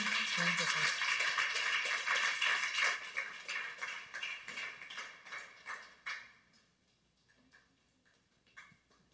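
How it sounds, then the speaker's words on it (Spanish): A church congregation claps during a worship service: dense, steady applause that thins out and fades after several seconds, with a few scattered claps at the end. "Pues un aplauso a nuestro Dios nuevamente."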